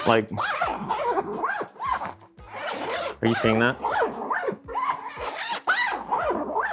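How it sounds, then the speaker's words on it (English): Repeated rasping zipper pulls on a PGYTECH OneGo 2 camera bag, close and crisp, come in short bursts mixed with a person talking. "I'm gonna start off with a zipper"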